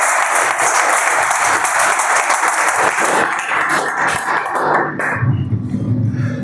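A seminar audience at a business presentation bursts into loud, vigorous clapping, which dies down partway through and gives way to quieter room sound.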